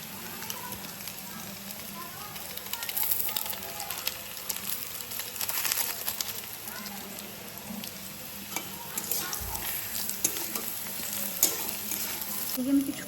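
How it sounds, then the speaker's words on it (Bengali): Maggi instant noodles and mixed vegetables stir-frying together in a pan, with steady crackling sizzle and repeated scraping stirs running throughout, no talking. "এবার ম্যাগিটা আর সবজিটা সহ আমি কিছুক্ষণ একসাথে ভাজবো।"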